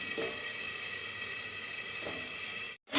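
Kachki fish curry gravy bubbling in a pan, a steady close sizzling hiss that runs evenly without voices before cutting out abruptly near the end.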